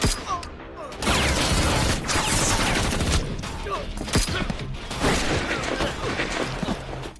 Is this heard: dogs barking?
no